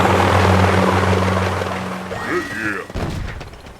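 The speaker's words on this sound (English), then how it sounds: "So let's try a heavy chopper rush." Helicopter gunships attack in the Boom Beach video game, with a throbbing rotor drone, then game explosions, crashes and whooshing effects that build and fade over a few seconds.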